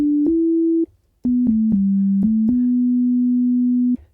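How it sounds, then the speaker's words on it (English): A plain, pure sine-wave tone from the default patch of the Pigments synthesizer holds steady, stepping between a few nearby pitches with short gaps, clean and loud with no other sounds. "It's just a basic sine wave."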